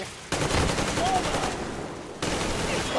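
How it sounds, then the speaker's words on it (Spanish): Rapid automatic gunfire in Metro Exodus rattles in a dense, loud burst. It breaks off briefly, then resumes close and continuous with sustained rhythmic shots. "no matar a nadie es complicado cuando te están disparando todos sin parar"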